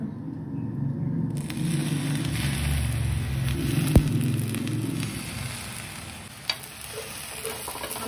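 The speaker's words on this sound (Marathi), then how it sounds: "अगं आता हे चांगले खरपूस भाजून देणार आहे आम्ही" Pav bhaji ingredients roast in a pan until crisp, making a steady, dense sizzle throughout, with one sharp utensil click midway and another fainter knock later.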